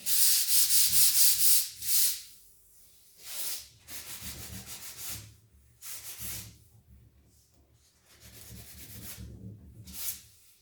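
Hand sanding of white-painted wood in repeated strokes, a raspy scratching that comes in bursts with short pauses between, close up.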